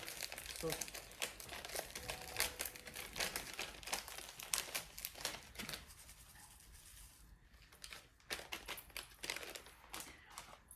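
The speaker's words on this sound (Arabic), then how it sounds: "ايه ده في كيس تاني جوه" A plastic bag holding a second bag inside crinkles and rustles up close in a kitchen, dense bursts of crackling that ease into sparser crumples, with a voice heard faintly at times.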